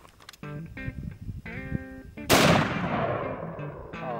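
A rifle fires a soft lead-tip bullet at fruit outdoors: one loud, sharp report rolls off into a long, fading tail, preceded by brief tonal electronic sounds.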